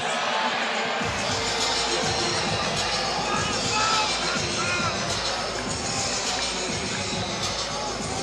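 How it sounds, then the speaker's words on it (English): A home crowd at a EuroBasket 2017 basketball game between Finland and Poland rumbles with discontent at the officials: a dense, steady arena roar with scattered shouts, ball bounces and sneaker noise. "You can hear the rumblings of disgruntled fans starting to have a little pop at the officials."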